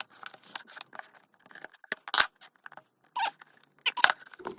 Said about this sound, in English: So let's get the scissors.